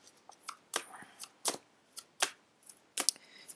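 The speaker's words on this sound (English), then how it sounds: "Here I go, awkwardly shuffling." Angel oracle cards are shuffled by hand in a quiet room, making a string of crisp, separate riffling snaps close by with short pauses between them.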